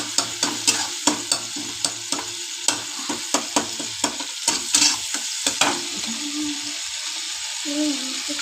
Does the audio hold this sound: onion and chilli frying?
yes